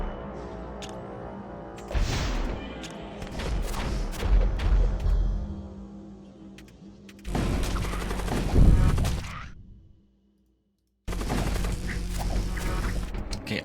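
Ship weapons in the space game Void War fire in loud, dense volleys, with booming blasts and rapid gunfire bursts. A short silent gap interrupts them before another burst of fire.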